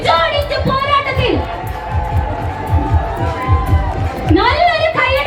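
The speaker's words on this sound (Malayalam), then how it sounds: "നല്ലൊരു കയ്യടി കൊടുത്തു" A crowd at the prize-giving of the Kottappuram Muziris boat race festival cheers and shouts, with children's voices mixed in. An amplified announcer talks over the noise throughout.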